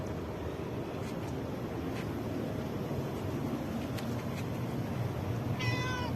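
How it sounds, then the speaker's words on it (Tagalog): A cat meows close by near a parked vehicle outdoors, giving one short, clear cry near the end over a steady low rumble of background noise. "Ang pusa."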